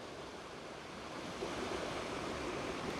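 Steady rushing of a stream flowing below a hillside trail near a waterfall, a broad continuous wash of water that swells slightly louder midway and holds even, with no voices.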